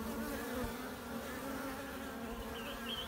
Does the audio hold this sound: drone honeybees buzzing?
yes